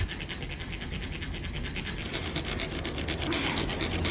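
A hacksaw cuts through a padlock on a back door, its blade rasping in quick, repeated back-and-forth strokes, close and fairly quiet.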